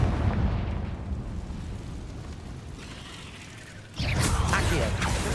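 A Confringo spell blast in Hogwarts Legacy erupts as a loud, rumbling explosion with a mechanical crackle, followed by a second burst of brighter, crackling impact near the end.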